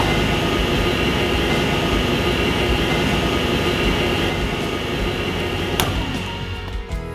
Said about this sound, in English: press the start button on your brand new Ingersoll Rand air compressor